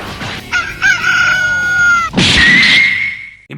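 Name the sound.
chickens and rooster crowing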